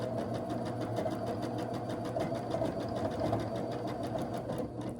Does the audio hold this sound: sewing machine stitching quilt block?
yes